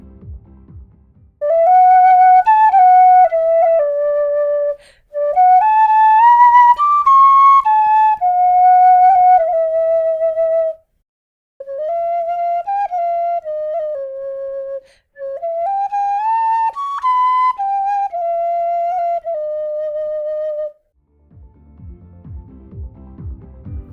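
A tin whistle muffled with a small piece of blue tack, played softly in several short melodic phrases with brief pauses between them, a soft, breathy tone heard alone with a little noise at the end.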